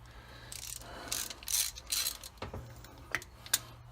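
A ratchet wrench loosens the ignition coil on a 1976 Starcraft boat engine, giving short bursts of quiet clicking spread over a few seconds, close by with no talk.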